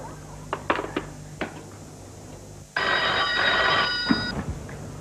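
An electronic telephone ring bursts in after a stretch of scattered clatter and light thuds, then sounds as a loud, steady tone for about a second and a half before cutting off, in an indoor comedy-sketch setting.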